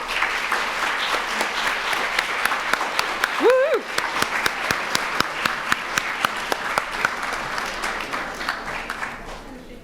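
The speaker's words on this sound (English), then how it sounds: "Let's hear a round of applause for Marcel." Sustained audience applause at the 92Y Teen Arts Week 2020 awards ceremony, a dense patter of many hands with distinct sharp claps standing out and a brief rising whoop from someone in the crowd partway through.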